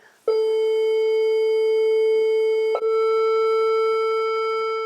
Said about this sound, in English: That's A444.